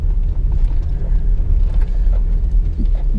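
A Honda Civic EK9 Type R drives along a backroad, its engine a steady, loud low rumble heard from inside the cabin with no voices over it.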